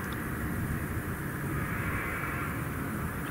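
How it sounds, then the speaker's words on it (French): A fixed-wing airplane drones overhead above a calm sea, a steady faint hum that stays even throughout with no voices. "On entend un avion."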